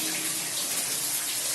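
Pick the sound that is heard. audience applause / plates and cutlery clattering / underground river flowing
underground river flowing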